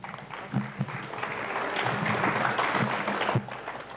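Audience applause for members' skit performers at a weekend club gathering, a dense, steady patter of many hands clapping that swells and holds, with a few sharper claps standing out near the end.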